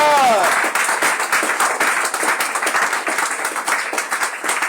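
A church congregation applauds in sustained, dense clapping that fills the room from start to finish, with a brief raised voice at the opening.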